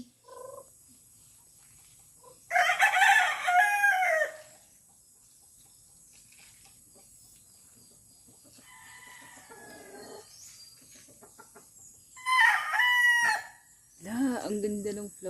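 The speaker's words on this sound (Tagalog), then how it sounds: "Ang ingay ng mga manok." Roosters crow loudly on a small farm in Siargao, Philippines. Two long, close cock-a-doodle-doo calls are separated by a quiet stretch, with a shorter squawk at the end and faint background clucking.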